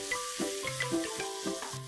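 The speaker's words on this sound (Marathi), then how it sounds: "ह्याच्यात थोडासा कढीपत्ता आणि 2 कांदे बारीक चिरलेले मी घालून गुलाबी करून घेणार आहे" Finely chopped onions and curry leaves frying in a hot spice tempering, a short burst of close sizzling and crackle with uneven pops, mixed with brief pan clatter.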